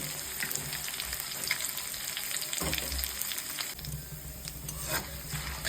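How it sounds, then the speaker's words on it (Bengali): Whole spices, ginger, cumin and bay leaf sizzle and crackle steadily in oil in a pan, a continuous close-up frying hiss with occasional pops and a soft stirring scrape. "মশলাগুলোকে ভালো করে ভেজে নিতে হবে।"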